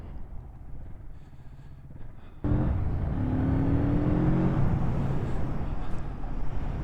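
A Kawasaki Z650RS retro motorcycle pulls hard up to national-limit speeds, a quiet ride that jumps to a loud, steady engine drone with rising pitch and rushing wind.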